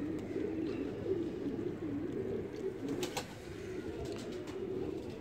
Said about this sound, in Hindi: वो सामने मेरे कबूतर हैं